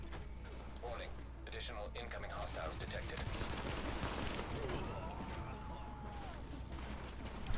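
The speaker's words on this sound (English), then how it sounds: "Ooh, classic AK." AK rifle fire in Tom Clancy's The Division video game, a fast crackle of gunshots and mechanical clatter sitting low under game sounds and talk.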